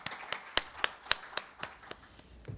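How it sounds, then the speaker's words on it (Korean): A small audience at a Korean health-care policy forum welcomes the vice minister with about a dozen faint, sparse claps spaced unevenly at first, then thinning out, with no talking. "큰 박수로 환영 부탁드립니다"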